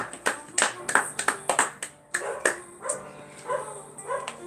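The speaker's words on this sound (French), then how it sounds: "on peut s'applaudir" Hand clapping at the end of a Body Sculpt workout session, a run of sharp, close claps in an uneven rhythm with short pauses, plus some softer, scattered sounds toward the end.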